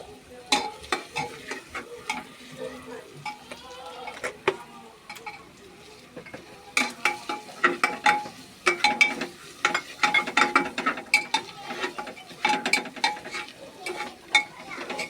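A spatula stirs goat meat with ginger garlic paste and turmeric in a sizzling pan for a bhuna curry, giving a steady fry hiss broken by irregular scraping and clacking strokes that quicken midway, with no talking.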